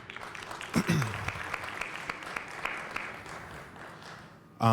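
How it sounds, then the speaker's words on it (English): Audience at a community public forum on procurement and public works applauds together, a broad steady wash of clapping that swells and gradually fades over several seconds, mixed with a few voices. "give yourselves a round of applause for being here"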